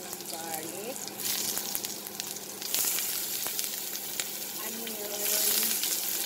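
Garlic sautéing in a pan after fish has been cooked, a steady close sizzle with occasional scrapes and ticks, rising louder toward the end, with faint background voices.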